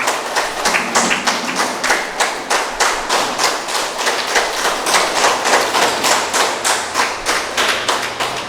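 An audience claps steadily in honour of Patriji, a dense, close wash of many hands held at an even strength for about eight seconds with no talk over it.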